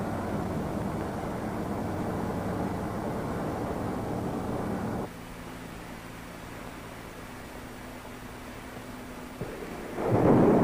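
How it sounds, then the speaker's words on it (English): Rocket engines of the North American X-15, fed liquid oxygen and a water-alcohol mix, rumble loudly in a steady broadband roar, drop to a lower hum with a tonal drone midway, then surge again at the end. "Crew members move to the protective shelter of the blockhouse as the engines are primed for light-up."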